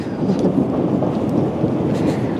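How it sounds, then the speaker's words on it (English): Thunder rumbles in a low, continuous roll under steady rain, with a dense, noisy wash throughout and no distinct single crack. "There's the thunder."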